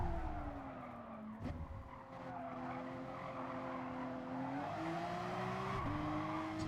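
Race car engine and sliding tires in the Gran Turismo Sport video game, a sustained engine tone shifting pitch through gear changes with skidding noise, steady and moderately loud.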